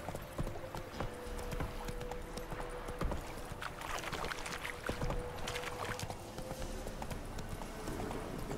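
The horse Roach trots in The Witcher 3, a continuous run of hoof clip-clops layered over a busy outdoor game soundscape.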